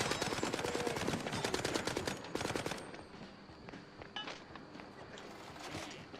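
Rapid bursts of shotgun fire in the video game Mouse: P.I. for Hire, dense loud volleys for the first two seconds, then scattered single shots and softer game noise without speech.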